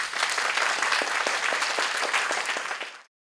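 Dense, steady audience applause in a lecture hall at a new-teacher training workshop, welcoming a university soil-environment professor to the podium; many hands clapping continuously for about three seconds, then stopping abruptly.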